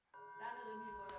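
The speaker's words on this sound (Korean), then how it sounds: "그러니까 남편을 부르는 종소리였군요." A hand bell used at home to summon a husband rings once with a sharp strike, then a clear sustained metallic tone that hangs and slowly decays, close and fairly quiet.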